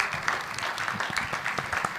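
An audience at the Innov'action Vosges 2021 round table on hydrogen energy applauds the panel speakers with soft, continuous clapping heard from a moderate distance, with no talk over it.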